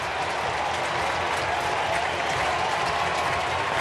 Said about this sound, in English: They got the crowd into it.